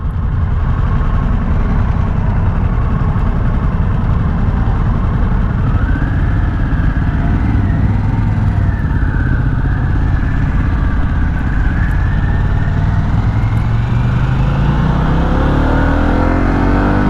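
A 2022 Harley-Davidson Pan America Special motorcycle engine runs loud and close throughout, a continuous low rumble with rising and falling revs as the bike rides along.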